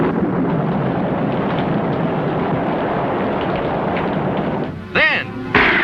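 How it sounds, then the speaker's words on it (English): A cartoon sound effect of a thundering torrent of rain roars as a loud, dense rushing wash for several seconds, then breaks into a short warbling, whistling effect near the end. "Down came a thundering torrent of rain."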